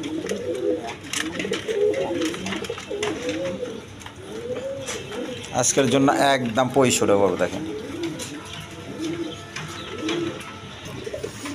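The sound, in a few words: pigeons cooing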